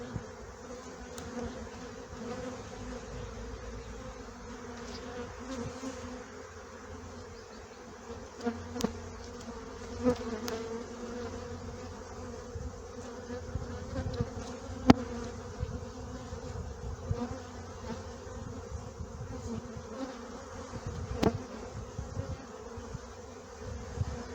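Dense buzzing of many honey bees inside a hive filled with honey, a steady close-up drone with a few brief louder passes and clicks, no talking.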